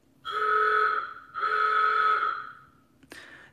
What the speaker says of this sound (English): And old horn.